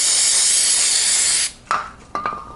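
A can of carburetor cleaner sprays in a steady, loud hissing burst while a GY6 scooter engine is being serviced, then cuts off, followed by two short clinking knocks.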